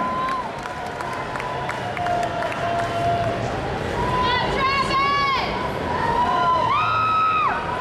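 Loud, steady crowd roar with cheering and whistles fills an arena during a timed 90-second deadlift at the 2011 Arnold Strongman event, and an announcer's voice rises over it.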